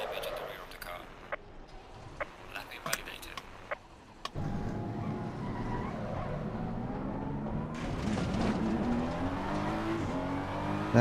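A race car engine in the Assetto Corsa Competizione racing game runs under quiet commentary, with sharp clicks early on, then the loud steady engine drone rises and holds with shifting pitch as the car accelerates.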